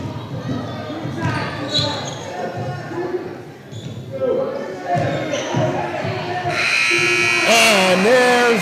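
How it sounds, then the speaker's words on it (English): Final buzzer at a girls' high school basketball game in a gym: a loud, sustained electronic blare rises at the end, over crowd noise and an announcer's commentary. "And there's the final buzzer."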